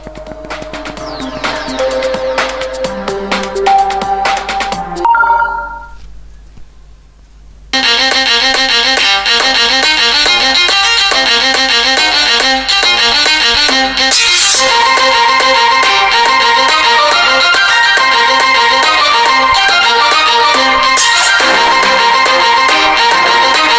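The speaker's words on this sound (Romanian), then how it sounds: "Da, Geometry Dash Meltdown. Deci trebuie să ascultați muzica asta." Electronic soundtrack from the video game Geometry Dash Meltdown, loud and dense: a sparse melodic intro, a brief near-silent break with a short tone, then a driving full beat with bright synths that runs steadily to the end.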